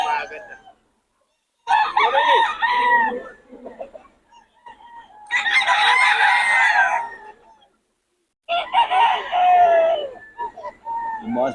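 Roosters brought from Batangas crow in three long, loud bursts close by, separated by short silences.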